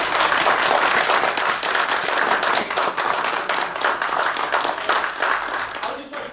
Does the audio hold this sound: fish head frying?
no